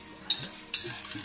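Ketchup and mayonnaise sauce frying in a pan, with two quick utensil scrapes against the pan over a faint sizzle.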